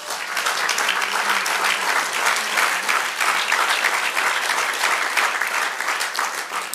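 Worshippers in church clap together in a full, continuous round of applause, dense and even at a fairly loud level from start to finish, with no voices standing out.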